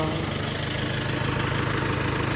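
A steady, low engine idles close by with a continuous rumbling drone and slight vibration, no voices.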